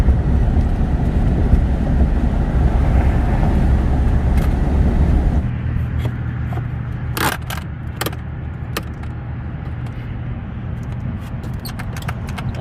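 A camper van cruising on a highway on a long drive south, with a loud steady road roar that drops partway through. Several sharp rattles and clinks follow over a quieter cabin hum.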